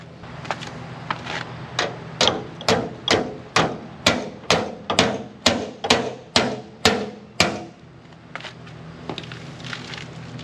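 A small hammer taps on freshly stick-welded metal during repair of an old Sweepster TR-48 sweeper: about fifteen sharp, evenly spaced metallic strikes up close, loud and ringing, then a pause and a few softer knocks.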